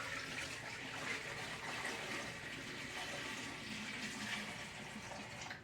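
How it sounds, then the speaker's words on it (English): Room-temperature water pours steadily from a pitcher into canning jars of cherry tomatoes, a continuous close splashing fill without a break, with no voices. "I have my pitcher of room temperature water, and I'm just going to pour it in to the fill line."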